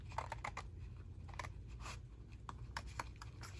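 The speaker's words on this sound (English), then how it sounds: "Okay, so I'm going to trim this." Paper is trimmed for a junk journal, a run of soft, quick clicking and scraping cuts with brief pauses, faint and close, with no talking.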